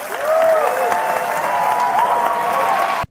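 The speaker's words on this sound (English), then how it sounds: "that is completely canned applause" Canned applause at a TEDx-style talk, a loud, uniform wall of clapping and crowd noise with faint whistles and tonal streaks running over it, sustained evenly for about three seconds before cutting off abruptly.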